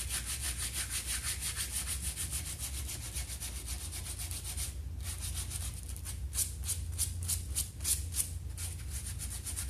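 Steady sanding of a painted coffee table with 80 grit sandpaper, a continuous close rubbing that turns into quicker rhythmic back-and-forth strokes near the end.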